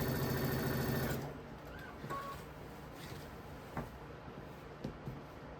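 Sewing machine stitching down a quilt border, a steady close mechanical whir for about a second that then stops, leaving quiet room tone with a few faint taps and clicks.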